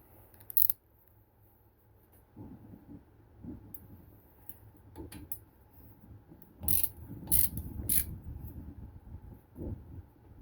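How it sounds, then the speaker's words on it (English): A ratchet wrench tightening during a Dana 44 axle conversion, a few short bursts of clicking pawl interspersed with quiet clanks and handling noise, close and fairly faint. "Now we can just snuggle up with the old ratchet"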